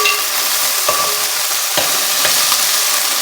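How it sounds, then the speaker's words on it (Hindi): Okra (bhindi) frying in a pan, a loud continuous sizzle broken by several sharp scrapes and stirring knocks at irregular intervals. "ये देखें जी, भिंडियाँ फ्राई हो रही हैं।"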